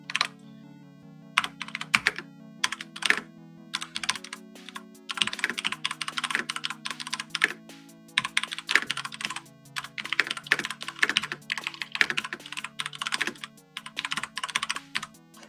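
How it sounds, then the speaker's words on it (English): Steady, rapid keyboard typing with irregular clicks and clacks, close and clear, continuing throughout with brief pauses; no talking. "my typing is horrible today."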